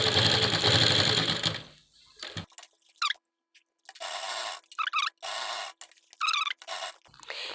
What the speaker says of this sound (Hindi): अब हमें धीरे धीरे इस तरह से मशीन को चलाना है इसके पास पास में और इस अस्तर को हमें इसके साथ में अटैच करना है